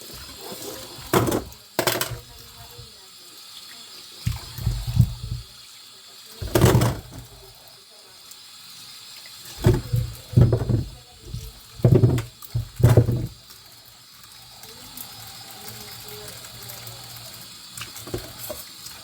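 Running tap water splashes while cassava is washed by hand, coming in repeated loud bursts of gushing and sloshing separated by quieter pauses, close to the microphone, with no talking.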